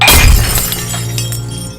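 A drinking glass breaks with a loud, close crash and a burst of shattering, then a brief scatter of fragments tails off beneath a low hum within a dramatic film scene.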